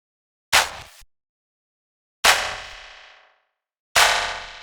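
A clap sample processed with a very tiny-grain granular delay in the MATTER plugin, heard as three sharp, bright hits with metallic, ringing tails, the second trailing off longest, alone with silence between.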